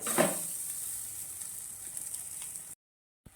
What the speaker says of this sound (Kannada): ಅನ್ನವನ್ನು ಹಾಕಿ ಹಿಂಗೆ ಕೈ ಆಡಿಸ್ಬೇಕು